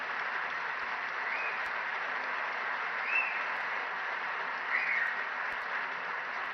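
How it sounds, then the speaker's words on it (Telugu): An audience at a political event with Telugu state chief ministers applauds steadily, a dense even wash of clapping from many people lasting throughout with no speech over it. "పెద్ద ఎత్తున మీరు చప్పట్లతోని వారిని అభినందించండి"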